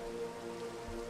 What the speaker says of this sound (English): I know I'm standing out in the rain